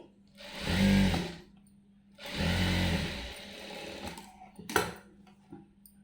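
A sewing machine stitching a blouse runs in two sustained bursts of fast whirring stitches, then a shorter spurt and a few clicks as the fabric is adjusted, close and clear with no talking.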